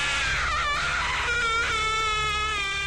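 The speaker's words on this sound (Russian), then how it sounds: "Боже, ну и крик!" Shrill, wailing scream of a monster toy in a Minecraft sound-guessing game, loud and close, rising in several harsh bursts over about three seconds with no talk over it.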